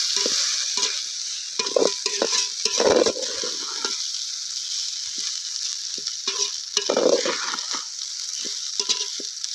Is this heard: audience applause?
no